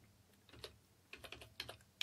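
Short bursts of keystrokes on a computer keyboard, typed in a few quick clusters with pauses between them, close and fairly quiet with no voices.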